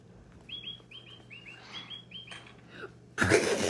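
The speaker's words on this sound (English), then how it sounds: "and then that's a real bird." A real bird chirps indoors among toy pets, giving a quick series of short, high chirps that often come in pairs, then a loud rustling burst cuts in near the end.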